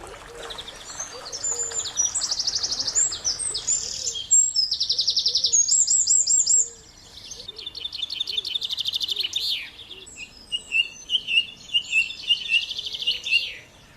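Several birds sing in a garden full of wildlife at a country estate: bright, rapid trilling and chirping phrases repeat steadily and fairly close, with brief pauses between bursts and no talking.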